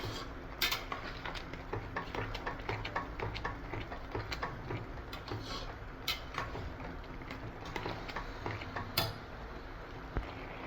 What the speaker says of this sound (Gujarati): સારી રીતે હલાવી દઈશું